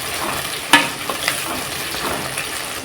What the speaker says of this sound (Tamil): வெங்காயம் கொஞ்சம் வதங்கணும்னு 1 தக்காளி, அதையும் நல்லா ஃப்ரை பண்ணிக்கலாம்.